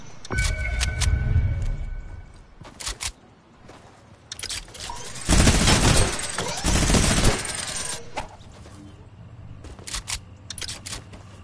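Gunfire in the Fortnite video game: scattered sharp shots and short volleys, then a dense, loud burst of sustained fire in the middle before sparser shots return, with no talking.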